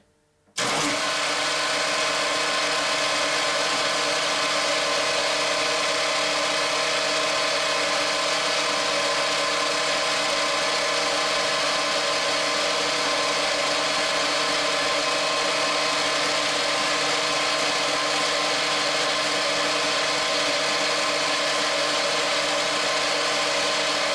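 A metal lathe drives a centre drill into a metal workpiece while a tailstock die holder is being made. A loud, steady machine drone starts abruptly and runs unbroken to the end.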